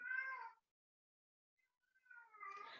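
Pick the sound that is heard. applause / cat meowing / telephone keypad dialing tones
cat meowing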